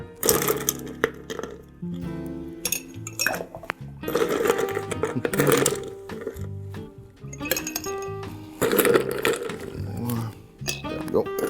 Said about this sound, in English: You're going to want to stir this probably about 30 to 40 times because you want to get it cooled down